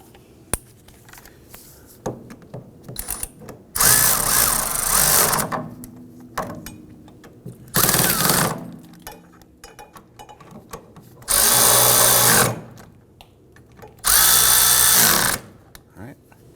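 A power tool snugs down the rear spindle bolts on a 2008-2011 Ford Focus in four loud, steady bursts of whirring, each lasting one to two seconds, with softer clicks and handling noises in between.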